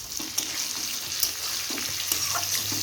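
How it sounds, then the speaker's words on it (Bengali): Water is poured into a hot cooking pan of pointed gourd, potato and fish curry, giving a steady rushing splash with sizzling and crackling over it, close and fairly loud. "আমি জল দিয়ে দেব। জল দিয়ে দিলাম।"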